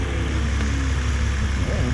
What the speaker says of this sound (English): somebody else revving up, huh?